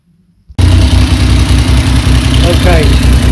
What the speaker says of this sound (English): I've got a bit of a fast tick over.